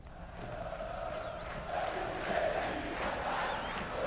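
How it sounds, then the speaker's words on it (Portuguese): A packed stadium of Cruzeiro football fans roars and chants, a broad, dense crowd noise with rising swells of cheering, heard from a distance and fairly faint. "A torcida do Cruzeiro lotou ontem, mais uma quebra de recorde."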